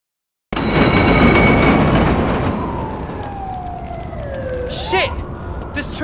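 A subway train in The Warriors video game gives a loud, broadband rumble that eases off over several seconds, with a falling whine and siren-like tones toward the end.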